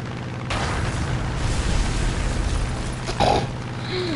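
Bombs dropped from aircraft in War Thunder explode in a heavy, rumbling blast that rolls on continuously for several seconds, with a sharper burst near the end.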